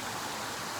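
A small waterfall along Stair Gulch Trail rushes steadily, a continuous broadband wash of falling water heard close and even throughout, with no voices.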